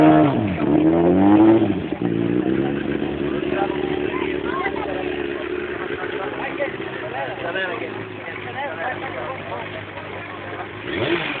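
A motorcycle engine revs hard and close in a stunt-riding setting, rising in pitch at first and then holding a steady, loud drone, with voices talking over it.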